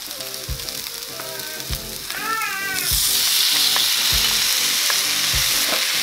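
Chopped tomato goes into onion and garlic-ginger paste already browning in a pan, setting off a loud, steady sizzle that swells and brightens partway through, with intermittent stirring knocks and a cat meowing nearby.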